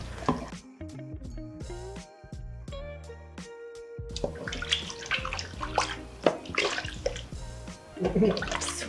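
Water pours steadily into a pot of soup with a rushing, splashing sound, loud and close, after a brief stretch of clattering kitchen noise.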